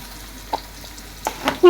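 Pointed gourd fries in a pan as green chilies and thinly sliced onion go in, a soft sizzle broken by a few sharp stirring scrapes and clinks near the end.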